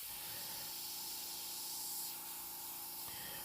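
An airbrush sprays paint in fine strokes while painting a Joker figure, making a steady, quiet, close airy hiss with slight changes in pressure and a faint background hum.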